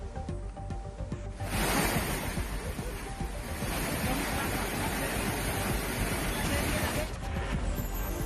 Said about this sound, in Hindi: पानी के तेज बहाव में खतरनाक हुए हालात।